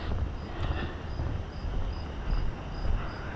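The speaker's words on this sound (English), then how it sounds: "You can hear the frogs going crazy." Frogs calling at dusk beside a road in Maine, a steady rhythmic pulsing chorus at a moderate distance, layered over constant low rumbling outdoor background noise.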